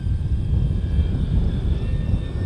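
An RC airplane flies a roll low over a runway, its engine or propeller making a steady, continuous drone that stays fairly loud and even, with no one speaking.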